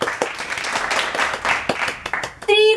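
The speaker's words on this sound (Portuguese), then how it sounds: "Vamos aplaudir o boy de Zabetinha pegadora." Applause in a Brazilian Portuguese celebrity gossip show, dense clapping filling most of the clip at moderate loudness, cut off by a brief music sting at the end.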